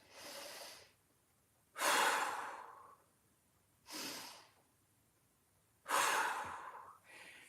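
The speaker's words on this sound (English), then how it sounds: "Two more big breaths." Deep, slow breaths taken during a mobility exercise: four long, close inhale-exhale cycles with quiet pauses between them, airy and soft, with no speech.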